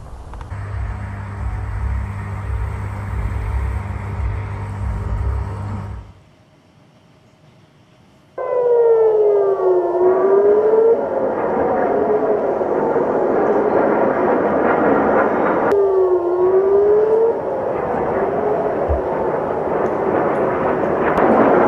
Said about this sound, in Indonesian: Sirine meraung-raung di seluruh Tel Aviv